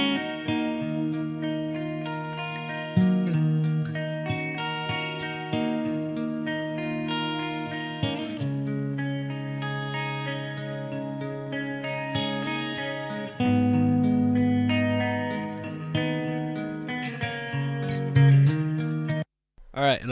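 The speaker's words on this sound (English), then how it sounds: "Now listen to these two guitar parts together and you'll maybe understand what I meant." Two overlapping guitar parts from a song play together with effects and some distortion, forming a dense, continuous wash of sustained notes with no talking.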